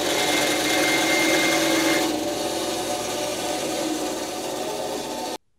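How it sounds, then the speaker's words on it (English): A bandsaw cutting a fountain pen blank, a steady close buzzing rasp of the blade through the material that eases in pitch partway through, then stops abruptly at the end. "Let's take it over to the bandsaw and get it cut."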